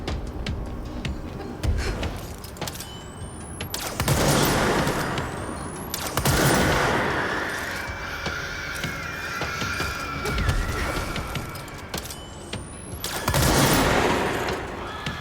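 Gunfire in the video game Control, repeated bursts of rapid shots in clusters separated by brief lulls, loud and close, with mechanical whines and effects between volleys.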